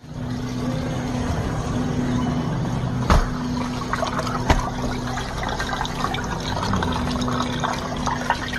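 Hot water is poured to defrost the clogged drain of a supermarket frozen food case. A steady splashing and trickling flow runs the whole time, broken by two brief clicks or knocks.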